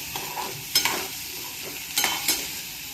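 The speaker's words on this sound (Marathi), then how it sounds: "आता इथं देते मी भाजीला फोडणी आणि सुरुवातीला इथं तेल घेतलं आहे मी" Spices crackle and spit in hot oil over a steady sizzle, with a few sharp popping bursts close by.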